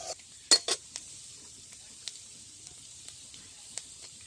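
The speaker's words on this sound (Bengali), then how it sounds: "তেল গরম হয়ে গেছে, দিয়ে দিচ্ছি আদা কুচি। আদাটাকে আমি হালকা করে ভেজে নিব" Chopped ginger dropped into hot oil for a Bengali mixed-vegetable dish gives a soft steady sizzle, with a few sharp clinks of a utensil against the pan near the start.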